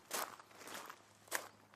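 Two brisk, close footsteps for a character hurrying as fast as he can in a village horror story, sharp scuffs over a faint low hum with a soft shuffle between them.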